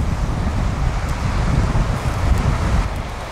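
Gusty outdoor wind buffets the microphone with a steady low rumble on a coastal outing in north-east Tasmania, loud and unbroken with no voices.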